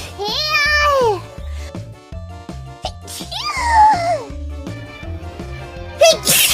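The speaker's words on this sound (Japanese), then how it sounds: "くしゃみだよ。" A sneeze bursts out near the end, set in a busy mix of bright voices and steady background music with rhythmic beats.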